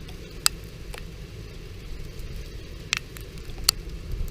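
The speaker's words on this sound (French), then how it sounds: "Regardez, neige, grêle et tout en même temps" Heavy hail mixed with snow falls in a continuous patter, with a few sharp ice pellets striking nearby against a steady low rumble, during a January 2017 downpour of hail and soft snow pellets in Tour-en-Sologne, France.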